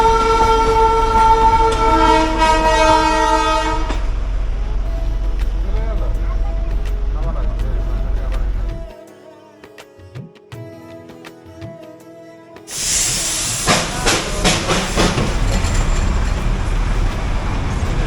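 Darjeeling joy ride toy train passing close by on a hill road, a loud sustained horn blast at the start, then rumbling wagons and road traffic that briefly drop away before the noise swells again.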